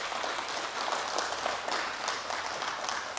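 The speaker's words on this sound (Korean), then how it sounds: "박수로 한번 격려하겠습니다." A church congregation at a Sunday service in Berlin breaks into steady, continuous applause to encourage a newly appointed accompanist, the clapping even and unbroken throughout.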